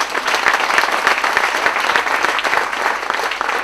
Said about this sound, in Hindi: इस बात के लिए जोरदार तालियां.